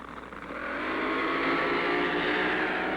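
A 1968 drag racer roars down the strip at the Indy Nationals, a loud, sustained engine blare that builds and holds steady, with no talk over it.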